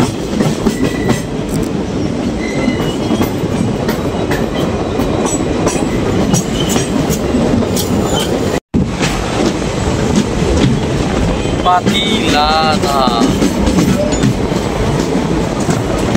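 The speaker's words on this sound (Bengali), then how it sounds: "ট্রেন আমাদের ঢুকছে পাতিলাধা স্টেশনে" Loud, continuous rumble of the Siphung Express with rhythmic wheel clatter, then metallic wheel squeals rise near the end as it slows entering Patiladha station; a voice briefly speaks.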